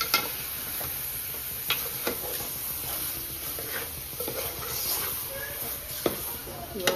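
Sauce is stirred and heated in a pan, giving a soft continuous sizzle with scattered spoon clicks and scrapes, while voices talk at times underneath.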